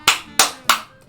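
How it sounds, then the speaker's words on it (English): Three sharp, evenly spaced claps ring out in quick succession in the police video game This is the Police, bright and close, with a faint fourth tap trailing off. "Round of applause."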